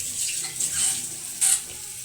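Water runs steadily into a cooking pot for boiling coriander-leaf noodles, a close continuous hiss that briefly swells louder partway through, with no talking.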